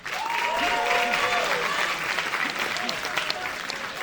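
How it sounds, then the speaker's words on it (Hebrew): An audience claps at an IPWA Ring Warriors wrestling event in Tel Aviv, a steady burst of applause from a small crowd lasting a few seconds, with voices faintly mixed in. "חבר'ה, תנו לו מחיאות כפיים."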